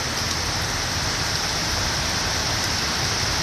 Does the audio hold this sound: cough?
no